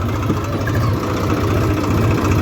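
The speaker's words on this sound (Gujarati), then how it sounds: "ફાઇનલી આપણે ટ્રેક્ટર બંધ કરી દઈએ" A steady, low tractor engine idles up close with an even, throbbing rumble that continues throughout, with no voices.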